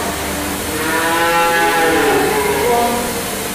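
Dairy cattle after milking give a loud, drawn-out low moo that fills the whole stretch, close and dominant with no talk over it.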